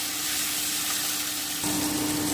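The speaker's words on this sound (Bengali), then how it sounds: "আমি কেটে রাখা টমেটোটা দিয়ে দিচ্ছি আমি টমেটোটা খুব ভালো করে একটু ভেজে নিচ্ছি" Chopped tomatoes fry in a hot pan for a fig kofta curry, giving a steady close sizzle that swells a little louder partway through, with no talking.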